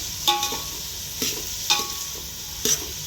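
Garlic frying in a pan for a tadka, a steady sizzle under four distinct spoon scrapes and clanks against the pan, spaced about a second apart, close up with no voice.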